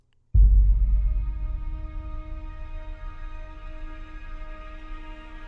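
Layered orchestral strings, a pulsing Albion consort combined with a Spitfire Chamber Strings tremolo cello, swell in with a sudden low attack and then hold a sustained, slowly fading chord.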